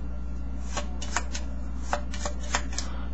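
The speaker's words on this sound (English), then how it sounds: "you take it, and then you just give it a quick shuffle." A short run of playing cards being shuffled by hand, a series of soft riffling snaps over a low background hum.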